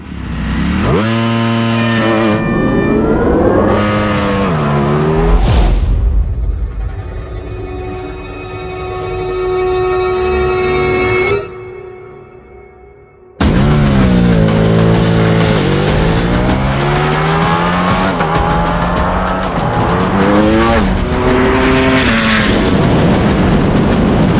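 A Ducati motorcycle races against a Lucid Air Sapphire in a drag race: a loud, high-revving engine climbs through repeated gear shifts, fades into a distant whine, then roars back with another rising run close by.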